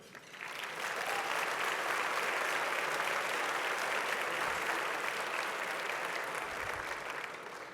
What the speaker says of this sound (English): I think we ought to start by having another round of applause for the organizers and for the sponsors